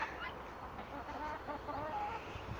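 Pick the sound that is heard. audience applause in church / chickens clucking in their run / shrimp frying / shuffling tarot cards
chickens clucking in their run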